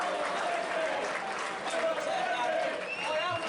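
A football crowd of about a thousand at a small ground applauds a player, steady clapping filling the stands from start to finish, with a commentator's voice running over it.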